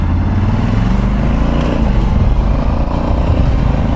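A 2020 Honda CRF1100L Africa Twin adventure motorcycle pulling away, a loud, close, continuous engine drone with heavy wind rumble throughout.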